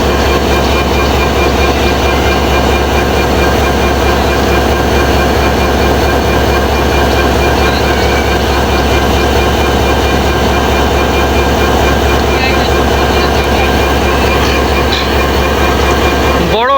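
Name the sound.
Bangladeshi train at Joydebpur railway station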